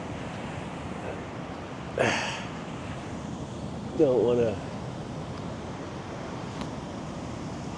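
Ocean waves wash onto the beach at Da Nang, Vietnam, a steady broad roar mixed with wind, broken by a brief bump and a short spoken phrase partway through.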